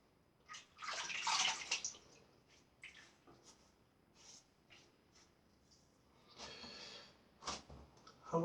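Water is splashed onto the face during a wet shave with a safety razor, giving several soft close splashes and drips in short bursts separated by near silence.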